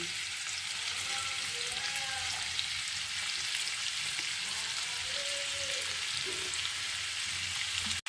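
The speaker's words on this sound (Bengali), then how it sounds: "আচ্ছা বেশ কিছু কিন্তু পেঁয়াজ কুচোনো দিয়ে দিলাম" Chopped onion fries in hot oil in a pan, a steady close sizzle and crackle running unbroken until it cuts off sharply at the end.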